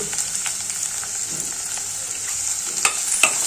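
Onions sizzle and fry in a pan with salt, with a steady crackle close by and occasional stirring scrapes. No one speaks.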